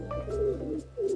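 Soft, low pigeon cooing repeats a few times in a short burst, close by on a rooftop, with a steady low hum underneath.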